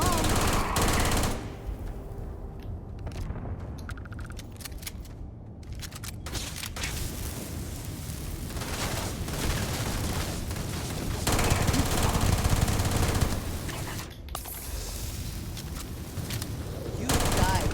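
Automatic turret gunfire in the Starfield video game, rapid bursts running through most of the stretch, loud and dense, with voices talking over parts of it.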